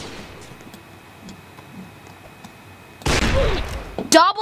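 Gunfire in a Roblox video game: a stretch of quiet is broken by a sudden loud burst of shots, then a second sharp blast near the end.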